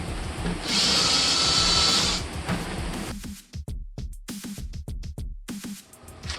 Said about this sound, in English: Let's go cut the bottom of this and drill a hole and see how it fits.